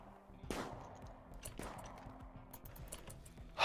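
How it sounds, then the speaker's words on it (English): Automated turrets firing at raiders in RimWorld: sharp shots at uneven intervals, with two stronger reports near the start and lighter pops trailing after. The shots sound moderately close over a low, steady background. "Our turrets are engaged."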